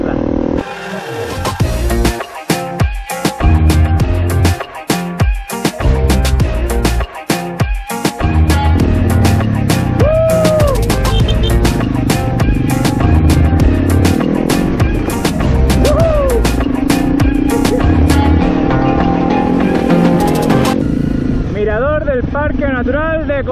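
An off-road trail motorcycle rides a dirt track on the way to Cofete, its engine droning loud and close, with gear changes and revving. A rider talks over the noise throughout.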